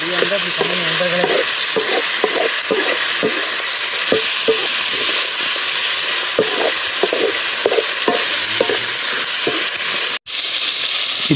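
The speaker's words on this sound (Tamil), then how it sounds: "இன்னைக்கு காடை பொரியல்" Quail pieces frying outdoors in a pan give a loud, steady sizzle throughout, broken by rhythmic scraping strokes of stirring up close and a brief cut-out near the end.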